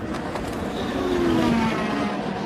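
Race cars passing on track during the Daytona 24 Hours IMSA race, a rising and falling engine roar as cars sweep by, loud and close with a whining tone.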